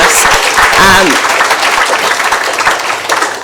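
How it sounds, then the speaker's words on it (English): Loud applause at a hospital staff graduation for graduating interns, continuous and close, with a voice briefly rising above the clapping near the start. "can we give these people, this lovely young interns, a round of applause?"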